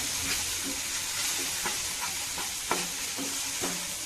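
Turmeric is stirred into tomato gravy in a pan, a soft continuous sizzle broken by regular spoon scrapes and light taps, moderately quiet and close with no speech.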